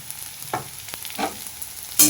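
Spoon stirring softened tomatoes with spice paste in a hot frying pan, a few separate scraping strokes over a faint sizzle, close and with no talking.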